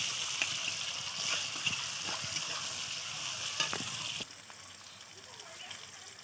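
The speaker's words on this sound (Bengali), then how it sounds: "এই পেঁয়াজ কুচাটা একটু লাল করে ভাজতে হবে।" Chopped onions fry in a pan of oil tempered with dried red chili, sizzling steadily with scattered stirring clicks before the hiss suddenly quietens.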